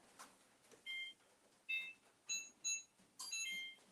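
An oven timer beeps in a home kitchen while banana nut bread bakes, with several short, clear high-pitched beeps at uneven intervals and then a longer double-toned burst near the end, heard alone over a quiet background.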